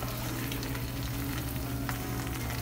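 An egg fries in oil in a non-stick pan, giving a loud, steady, close sizzle with a dense crackle and a low hum beneath, with no voices.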